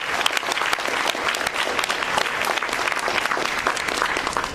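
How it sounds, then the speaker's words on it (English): Graduating business school students receive a round of applause at a ceremony: dense, sustained clapping from a large audience, loud and even throughout, with no speech. "I got to give a round of applause."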